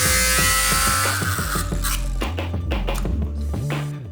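A power cutting tool buzzes through the damaged end of a Porsche Macan Turbo radiator in a home garage, loud and close, its pitch wavering and dipping as the blade bites into the metal.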